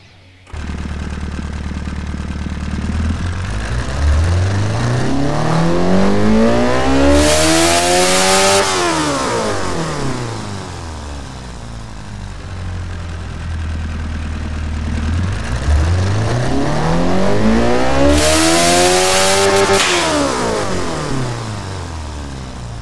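A 350cc car engine in the Automation tycoon game revs alone and loud in two long sweeps, each rising to a screaming high-rpm peak and falling back, with a steady drone between them.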